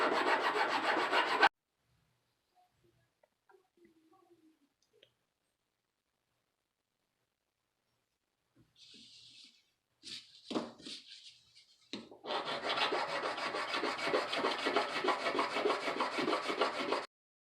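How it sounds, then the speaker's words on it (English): Hand filing on a custom Lesney Mercedes model truck, with a burst of rasping at the start, a long quiet gap, then a few short scrapes and a sustained, close, even back-and-forth filing stroke to the end. "there's a good amount of filing left"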